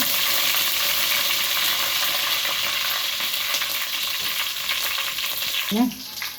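Cumin seeds and curry leaves fry in hot oil for a cassava dish, a loud, dense, continuous crackling sizzle close by, settling slightly near the end with a short scrape of stirring.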